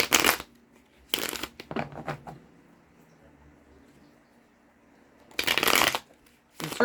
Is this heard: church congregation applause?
no